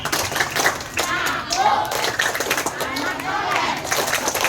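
Many children at a special-needs school clap together in a quick rhythm while chanting an Indonesian clapping chant loudly, with voices and claps mixed throughout.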